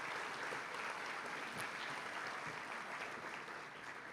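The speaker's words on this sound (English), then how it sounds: "May we have a round of applause for all of these public servants and their representatives" An audience at an annual awards dinner in a convention center gives sustained applause for public servants, a dense, even wash of clapping heard from within the crowd.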